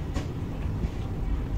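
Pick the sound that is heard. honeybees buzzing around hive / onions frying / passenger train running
passenger train running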